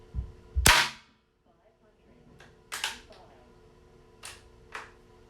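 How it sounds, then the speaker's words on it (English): A pellet from an Umarex 850 M2 CO2 air rifle strikes a piece of wood about eight yards away. A loud sharp crack opens, followed by several fainter, short distant knocks spaced apart. "The sound that you're hearing down there is it hitting a piece of wood from 8 yards away."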